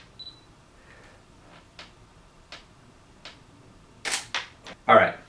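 A DSLR camera shutter fires at 1/500 second with several sharp, separate clicks spread across the clip, soft at first, then a quicker, louder cluster near the end.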